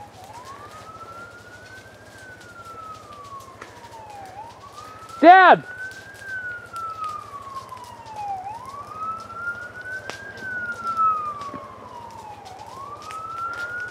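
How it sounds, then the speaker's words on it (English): A wailing siren rises and falls in long sweeping cycles, steady and fairly near, with a brief shout cutting in partway through. "hearing sirens again"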